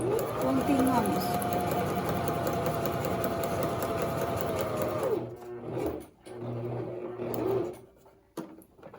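A sewing machine stitching fabric in a long steady whirring run that stops around the midpoint, followed by quieter handling sounds and a voice speaking.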